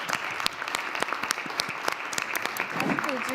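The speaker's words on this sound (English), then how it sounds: "If you would just stand, please, so we can applaud you for your service." An audience at a county commission proclamation meeting applauds military veterans, a sustained spread of clapping with sharp individual claps standing out and a voice briefly heard near the end.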